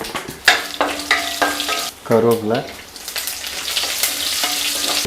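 Mustard seeds, urad dal and dried chilies crackle and sizzle steadily in hot oil in a pan, with a few sharper pops and stirring clatter; a voice speaks briefly midway.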